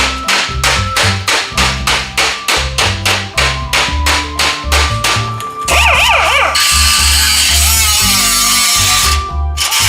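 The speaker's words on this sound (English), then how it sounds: "Time to take my hammer and start molding this to the piece" Rapid, regular hammer blows shaping sheet metal patch during car rust repair, a long run of sharp ringing strikes, followed by a louder whining, wavering mechanical noise.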